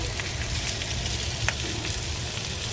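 Baby back ribs braising in a pan give a dense, even sizzle and crackle with scattered small pops, steady and fairly close, with no talk.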